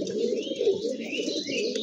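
Several pigeons in a loft keep up a continuous low cooing, close and fairly loud, with a few thin chirps layered above the soft rolling drone.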